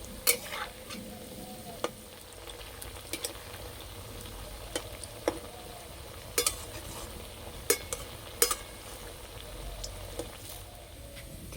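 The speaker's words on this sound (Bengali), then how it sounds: "পিঠেগুলো ভাজার জন্য তেল খুব ভালো করে গরম করে নিয়েছি, এবার ভেজে নেব।" Semolina pitha fry in well-heated oil over medium heat, giving a steady close sizzle broken by scattered sharp pops and crackles, with no voices.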